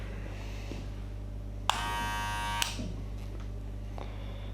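Electric hair clippers with a number 1 guard switch on for about a second during a skin fade, giving a sharp buzzing whir over a constant low mains hum. The cut is short and nearby, and nobody talks.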